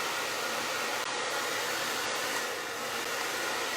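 A hair dryer with an anti-static ion feature blows close by, a loud, steady rushing whoosh that runs throughout with no talking.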